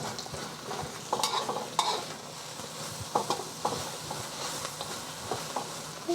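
Onions stir-fry in a hot pan with a steady sizzle, broken by repeated scraping stirs and clanks of a utensil at close range, with no voices.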